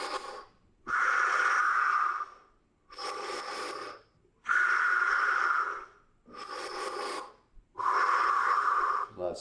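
Deep, rhythmic breaths during a morning breathing exercise: five long, loud, close-up airy inhales and exhales, each lasting about a second or two, separated by short quiet gaps.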